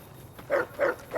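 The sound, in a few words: dog barking in video game Fallout New Vegas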